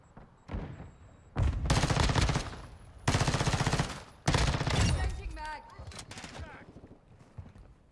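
Tempus Razorback submachine gun fire in Modern Warfare 2 Season 4: three loud, close automatic bursts of rapid shots separated by short gaps, followed by someone talking.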